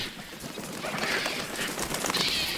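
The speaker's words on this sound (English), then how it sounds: "vultures are having better luck. Tearing into an old buffalo who died several days ago" Vultures crowd and tear into an old buffalo carcass in the wild, making a continuous dense rustle of flapping, hissing and squabbling, loud and close throughout.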